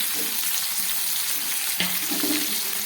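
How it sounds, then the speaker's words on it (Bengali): Pointed gourd, ridge gourd and papaya pieces fry in hot oil, giving a steady close sizzle with a brief disturbance near the middle as they are stirred. "সব দিয়ে আবার একটু ভেজে নেব"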